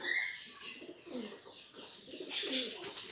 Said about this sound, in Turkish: Şurada güvercin çeşitlerimiz.